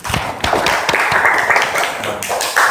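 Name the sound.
students applauding for Mas Bayu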